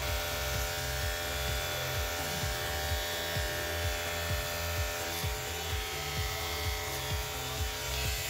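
Electric hair clippers fitted with a number 2 guard buzz steadily through a men's military-style self haircut, with a rhythmic low pulsing as the blade passes repeatedly through the hair; no talking.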